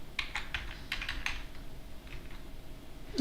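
Rapid, uneven keystrokes clatter on a computer keyboard while a password is entered to set up a Raspberry Pi Zero W, ending with a louder thump.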